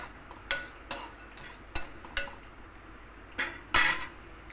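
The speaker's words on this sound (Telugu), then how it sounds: "నేను డ్రై రోస్ట్ చేస్తున్నాను" Spice powder ingredients for bisibelebath dry roasting in a pan, with scattered sharp metallic clinks and scrapes of a spoon against the pan at irregular intervals, fairly close but soft.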